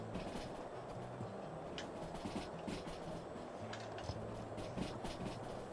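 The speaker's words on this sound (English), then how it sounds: "Oh, I love driving these little steam trains." Steady rumbling of a small steam locomotive in the video game Derail Valley, with rhythmic mechanical chugging and clatter, continuous and fairly loud throughout, no voices.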